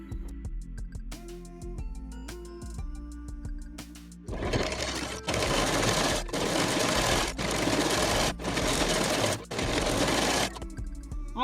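A sewing machine stitches a patchwork saree made from reused old saree fabric, sewing long seams along the edge. Bursts of loud, steady whirring run near and alone, with short pauses between runs and quieter handling at the start.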